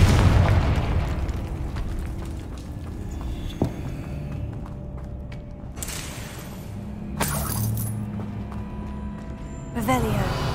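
The Confringo blasting curse goes off in the Hogwarts Legacy video game: a heavy explosion opens, then rumbling decays, with several sharp shattering bursts and cracks spaced through the scene.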